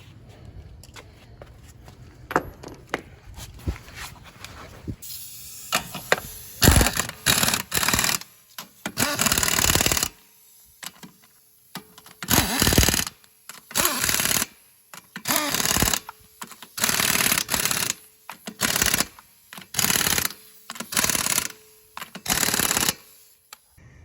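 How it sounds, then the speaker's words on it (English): A pneumatic impact wrench works on the front brake hardware of a 2006-2008 Toyota RAV4, firing in about a dozen short, loud hammering bursts with brief pauses between them. "I'm gonna go ahead and grab my impact."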